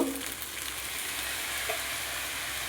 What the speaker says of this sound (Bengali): একটু নাড়াচাড়া করে নিচ্ছি। এখানে এখন আমি সয়া সস দিয়ে দিচ্ছি অল্প।